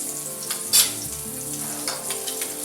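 Scallops fry in a pan with a steady, close sizzle and a few sharper spits and bursts of crackle, with no talking.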